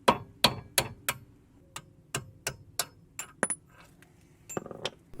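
A hammer drifting out an M12 bolt from the front spring and top bearing of a Jaguar X-Type gives about a dozen sharp metallic strikes at an uneven but steady pace, close and clear with quiet gaps and no talking.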